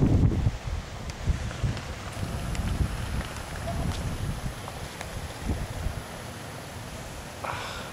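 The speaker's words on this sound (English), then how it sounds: "It's extremely windy." Strong gusting wind during Hurricane Sandy roars steadily as broadband noise with buffeting on the microphone, with faint rustling and scattered knocks throughout.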